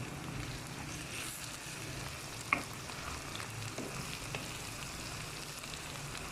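Salt, garlic powder and ginger powder being stirred together in a cooking pot for achari karela gosht, a faint steady sizzle-like scraping with one sharp clink near the middle and no talking.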